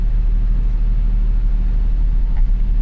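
An Opel car rolls slowly in reverse with a deep, steady, loud engine rumble and low road noise throughout, with no talking.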